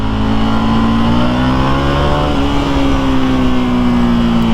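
A KTM Duke 890 R motorcycle engine pulls hard under acceleration, a loud, close, continuous drone rising steadily in pitch with a brief dip and climb, heard alone.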